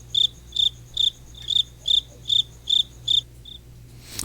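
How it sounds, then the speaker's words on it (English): Crickets chirp in a steady rhythm, eight bright pulsing trills evenly spaced over a faint low hum, then a ninth softer one before quiet. "It's all crickets."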